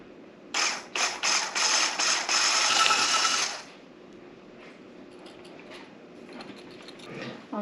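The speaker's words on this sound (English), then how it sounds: "I'm going to go ahead and turn my immersion blender to 1" An immersion blender fitted with a whisk attachment runs on its lowest setting inside a jar in a home kitchen, buzzing in several short loud bursts over about three seconds before cutting out to quiet room tone.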